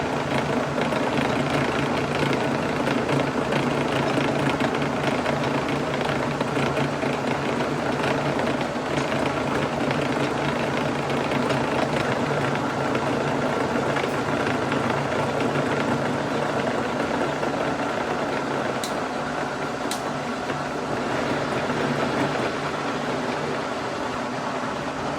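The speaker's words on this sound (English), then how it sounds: "Now that we got it going in the right direction, we can start machining this taper." A milling machine runs a face mill with worn inserts, cutting a taper on a steel cylinder wedge for the GTW 4070 steam locomotive; a steady close mechanical drone with a constant hum continues throughout, with two faint ticks near the end.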